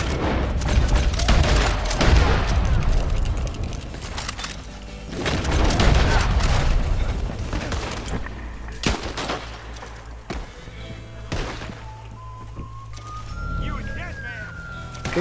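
Gunfire in Red Dead Online during a Moonshiner mission, bursts of shots and booms in the first seconds and again around five to seven seconds, with louder isolated cracks later, over in-game sounds and someone talking.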